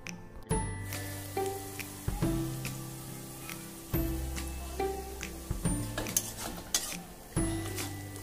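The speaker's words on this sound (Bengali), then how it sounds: "এবারে মশলাটাকে আমি কিছুক্ষণ ভেজে নেব" Spice mix of chilli powder, salt, turmeric and cumin frying in a pan for shingara filling, a light sizzle with repeated sharp clinks and scrapes of a utensil stirring against the metal, close and unhurried.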